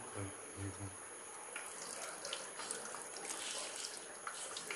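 Water trickles and pours steadily into a potato and egg mixture, a soft continuous splashing that runs beneath faint background noise.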